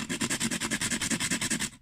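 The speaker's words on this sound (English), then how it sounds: "So as I'm sanding, I'm turning the pencil." Rapid rhythmic scratching as a pastel pencil is rubbed back and forth against sandpaper to sharpen it, turned while sanding, about a dozen quick strokes close up.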